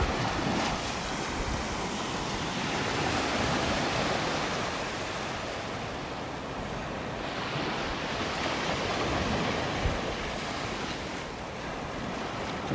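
Ocean waves wash up on a beach in North Naples, Florida, a steady broadband roar of surf with swelling and receding surges throughout, loud and close, with no voices.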